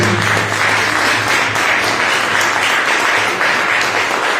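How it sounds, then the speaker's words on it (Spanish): A church congregation breaks into a burst of loud, dense clapping during a sermon. The applause is steady and close for several seconds, with no voices over it. "Pero un aplauso ahí, hermano, aleluya"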